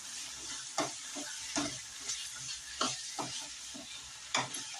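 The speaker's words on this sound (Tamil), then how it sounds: "இப்போ நல்லா வதக்கிக்கலாம்." Brinjal pieces for kara kuzhambu sautéing in a pan, a steady soft sizzle broken by sharp scraping strokes of a stirring spoon every second or so, close up with no talk.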